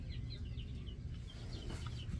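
Close, continuous clucking from a few young chickens in a garden, short repeated calls over a low background hum with no talking.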